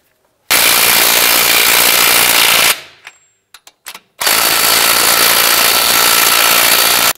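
Impact gun snugging the front strut nuts on a 2006-2011 Cadillac DTS, two long loud rattling bursts separated by a brief pause with a few small clinks.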